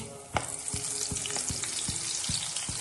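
Potato and onion pakoras made with bread crumbs fry in hot oil, giving a steady close sizzle and crackle with soft rhythmic stirring or scraping knocks throughout.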